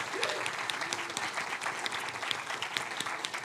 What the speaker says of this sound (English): Can we have a round of applause for all of our winners so far?